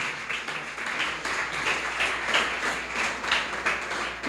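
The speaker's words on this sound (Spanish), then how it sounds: "¿Cuánto le damos un aplauso al Señor?" A church congregation applauds, a steady crowd of clapping hands with irregular rhythmic pulses, moderately near and sustained for a few seconds.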